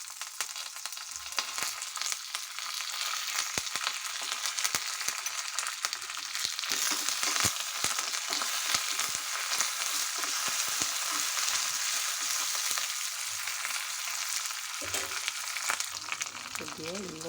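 Dried red chillies, garlic cloves, urad dal and curry leaves crackle in hot oil for a South Indian tempering, with a steady close sizzle, occasional pops and stirring scrapes, and no talking.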